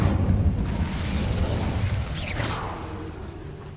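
A Hogwarts Legacy Incendio fire spell flares up in a broad rushing burst with a low rumble, thinning out toward the end.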